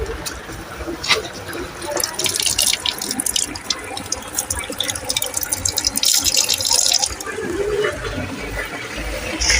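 Water splashes and pours steadily into a container, with brief clatters and a voice in the background.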